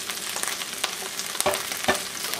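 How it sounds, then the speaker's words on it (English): Food frying in a pan with bacon drippings over a fairly low flame, a steady close sizzle with a few louder crackles and pops, no voices. "Into a pan with some of the bacon drippings. Maybe over a slightly lower flame."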